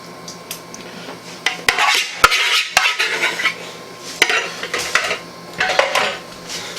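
Chicken green bean casserole being spread evenly in a baking dish, with repeated sharp clinks and scrapes of a utensil against the dish in irregular bursts, close and loud with no talking.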